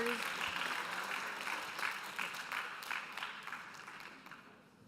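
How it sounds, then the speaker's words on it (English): Conference audience applauding a speaker being introduced at an international world harmony gathering; steady mixed clapping runs throughout, moderately loud and fading slightly toward the end, with some voices mixed in. "Please give him a big round of applause."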